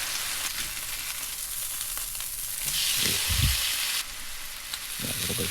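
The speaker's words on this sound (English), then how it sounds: "just go ahead and baste that butter over as I continue to fry them and develop that crust" Golden oyster mushrooms fry in butter with a steady, close crackling sizzle. The hiss swells briefly as butter is basted over them, and soft low knocks of the pan and spoon come through, with no talk.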